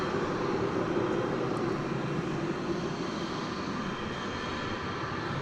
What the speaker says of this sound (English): It's American Flight 2540 arriving from Omaha, Nebraska.